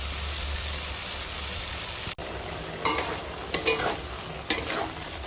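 Fish roe curry with potatoes and ground spices cooks in a pan under a constant sizzle, broken in the second half by several sharp scraping strokes of stirring.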